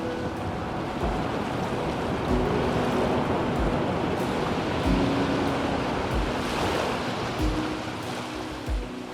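Ocean waves surge and crash against coastal rocks near a candlestick-shaped sea stack on the East Sea coast, a continuous close roar of churning water with repeated heavier breaks and some wind.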